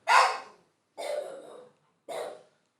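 Guard dogs at a house in Delhi let out three loud, separate barks, each about half a second long, with short silences in between and no voices.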